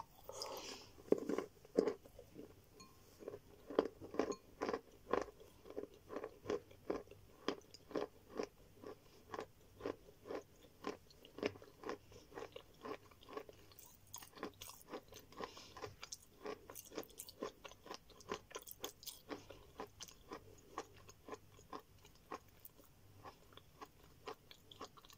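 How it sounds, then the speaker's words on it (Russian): Wet snow is bitten and chewed close to the microphone, giving a long run of sharp, rhythmic crunches in a quiet setting, with no speech. "Хрустит, как снег во рту."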